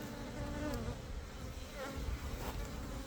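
Honey bees in a requeened hive colony hum in a dense, steady drone close by, with individual bees' buzzing rising and falling over the continuous swarm noise; no voices.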